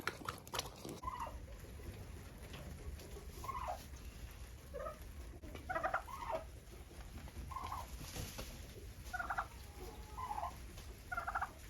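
Chickens and turkeys peck and cluck over a feed bucket after a worming treatment, with short bursts of gobbling and clucking scattered through steady low farmyard noise.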